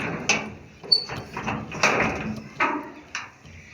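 A latch is worked on a damaged door that children have broken by pushing it, giving repeated metallic clacks, rattles and scrapes in an uneven rhythm at close range.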